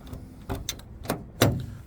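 A dump truck door is worked shut with several short mechanical thumps and rattles, close by, with the final clunk the loudest.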